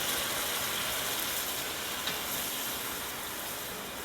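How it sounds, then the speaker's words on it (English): Twelve ounces of red wine brought to a rapid boil in a pot for braised short ribs, giving a steady, fairly quiet bubbling hiss that runs evenly throughout without talk. "So 12 ounces in, bringing that to a boil."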